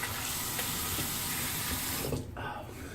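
Tap water runs steadily into a bathroom sink during rinsing after a shave, a continuous close hiss that cuts out briefly near the end and then resumes.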